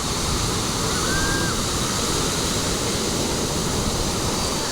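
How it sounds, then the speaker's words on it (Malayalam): Surf at Valiyaparamba beach washes in as a steady, broad roar of breaking waves, loud and unbroken throughout without distinct individual crashes. "ഇത് വലിയ പറമ്പ ബീച്ച്"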